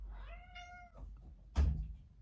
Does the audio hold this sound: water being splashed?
no